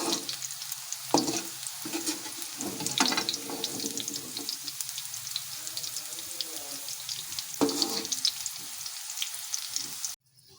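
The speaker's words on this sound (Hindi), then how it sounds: "प्याज को मैंने ऑयल में बिल्कुल लो फ्लेम पे जो है वो फ्राई किया है।" Onions frying in oil over a low flame, giving a steady close sizzling hiss with a few louder crackling bursts, running without pause until it cuts off near the end, with no talking.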